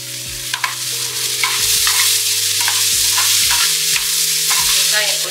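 Onions with salt fry loudly in a pan, a dense continuous sizzle broken by regular stirring scrapes and a steady low hum beneath.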